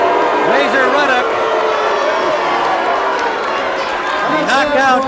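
Boxing arena crowd after a knockout roars loudly and continuously, mixing boos and shouts, with an interviewer talking over the din.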